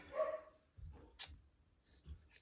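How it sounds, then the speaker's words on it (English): A single dog barks once, fairly faint and a little distant, followed by soft rustling and quiet background sounds. "know what Bunny's barking at"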